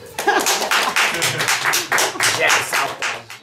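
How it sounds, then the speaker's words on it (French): Applause from a live audience after a clown street performance, dense irregular clapping filling the whole stretch, loud and close, with some voices mixed in. "applaudissez pour moi"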